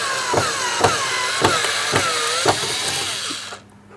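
A power screwdriver backs out Phillips head screws holding the door panel of a 2003-2007 Cadillac CTS, close whirring bursts with rising and falling pitch and a few sharp clicks, stopping near the end.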